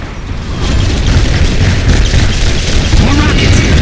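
Rocket explosions in the Command & Conquer 3: Kane's Wrath campaign boom steadily and loudly, a dense rumbling barrage of blasts with no pause across the stretch.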